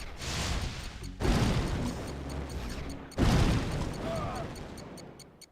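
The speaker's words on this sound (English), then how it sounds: "What was that explosion?" Explosions from the real-time strategy game Command & Conquer: Red Alert – The Aftermath: two dense, booming bursts with crackling debris that swell over a constant wash of battle noise.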